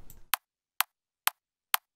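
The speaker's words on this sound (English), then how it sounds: "I have the top kick from Usman" A processed top kick drum sample from Usman in an electronic drop strikes four times at an even pace, each hit a short, crisp, clicky snap with little low body, alone against silence.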